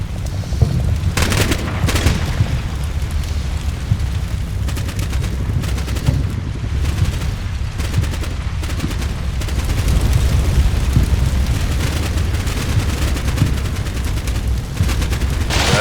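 Gunfire in Combat Mission Black Sea during an assault on a Ukrainian checkpoint: dense, continuous volleys of rifle and machine-gun shots with occasional heavier booms, loud and unbroken throughout.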